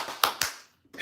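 Two sharp hand claps in quick succession, close and crisp, followed by a brief pause and a faint trailing sound, with no talking.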